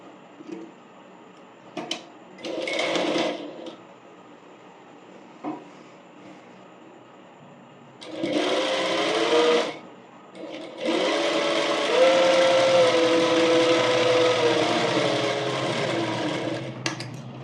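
A sewing machine stitching an umbrella frock: short whirring bursts, then a longer sustained run of fast, close mechanical stitching, with quiet gaps between runs.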